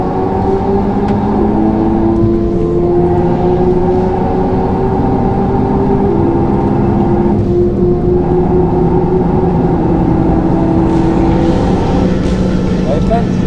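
A Renault Mégane 4 RS Trophy-R accelerates hard on a racing circuit, heard from inside the car as a loud, sustained engine drone with rising and shifting tones. It holds dense and continuous throughout the clip.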